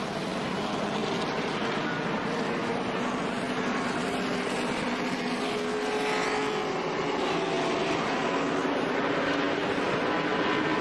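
NASCAR Winston Cup stock cars roar around Daytona during the 2002 Pepsi 400 under a caution, a loud unbroken wash of engine and crowd noise with a slight rise in pitch near the middle, and no voices.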